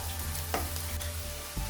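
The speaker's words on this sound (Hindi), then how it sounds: "इसको 2 से 3 मिनट तक लो फ्लेम में फ्राई करेंगे" Eggplant masala frying over a low flame makes a soft, continuous sizzle with a couple of brief stirring scrapes, heard close over a low steady hum.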